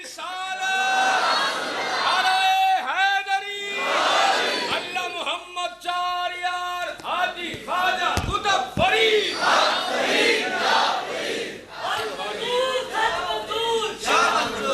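A large crowd at a religious gathering shouts loudly together in response to a preacher. Repeated massed cries and chants swell and fade in waves over about fifteen seconds.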